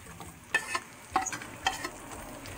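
Onions sautéing in a pan for French onion soup, with a faint steady sizzle broken by a few soft scraping stirs of the utensil.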